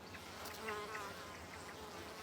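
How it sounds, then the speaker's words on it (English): Honey bees buzz around apple blossoms, giving a faint, steady insect hum with brief louder passes as individual bees fly close, with no voices. "A bee will visit hundreds of flowers before her honey stomach is full and she returns to the hive."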